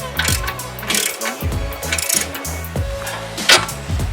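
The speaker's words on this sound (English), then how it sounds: "Next up, I'm actually going to take off the tie rod end link, which is right here. That is a 21 millimeter." A ratchet wrench backs off the 21 mm tie rod end on a Toyota A90 Supra, clicking in close, repeated rhythmic bursts separated by short pauses, with no talking.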